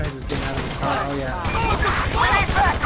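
Rapid burst of gunfire in GTA V as shots strike a police car window during a patrol, cracking in quick succession while someone talks over the shooting.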